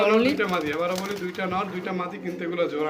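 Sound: pigeons cooing at a pigeon sale

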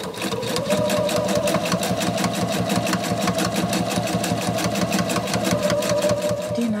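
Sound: sewing machine stitching fabric bag straps

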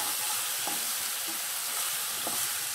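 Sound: stirring eggplant frying in a pan

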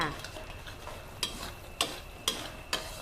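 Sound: stir-frying chicken wing sauce with garlic-coriander-pepper paste

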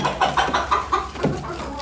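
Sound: chickens and rooster clucking

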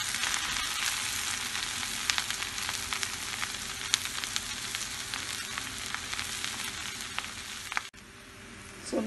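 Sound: cabbage roll filling cooking in a pan

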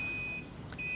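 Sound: ship navigation equipment alarm beeping

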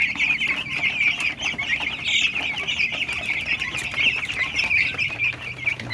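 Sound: 21-day-old broiler chickens clucking and pecking

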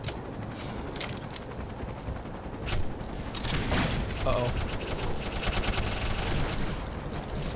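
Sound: gunfire from soldiers shooting in video game Black Mesa

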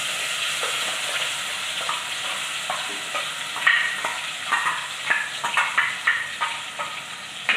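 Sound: ground masala paste added to fried fenugreek in pan

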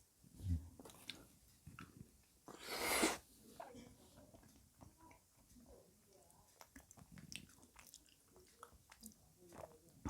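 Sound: eating MRE cherry blueberry cobbler with a spoon

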